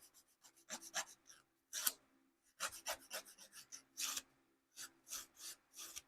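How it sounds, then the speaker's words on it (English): Short-cut fingernails being filed down, a series of close, quiet rasping strokes in quick bursts separated by brief pauses. "I'm just filing them down so I don't have any sharp spots on them."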